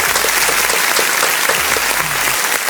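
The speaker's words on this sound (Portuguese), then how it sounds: "Deixa eu bater uma salva de palmas pra essas mulheres" Steady round of applause from a gathered group honoring the women of a party's women's secretariat, dense continuous clapping close by with no pauses, lasting a few seconds.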